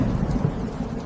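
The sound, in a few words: heavy rain at night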